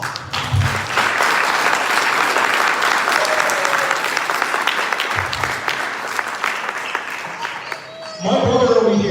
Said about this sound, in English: I would like you to give this man a round of applause.